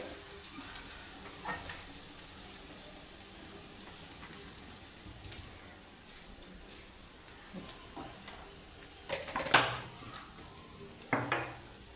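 Masala with coriander sizzles quietly in hot oil as it cooks for prasad, a low, steady frying hiss broken by a few soft clinks and scrapes of stirring.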